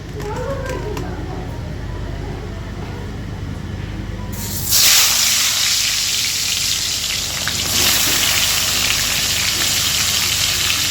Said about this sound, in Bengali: চলো অ্যাট ফার্স্ট আলুটা ভেজে নিই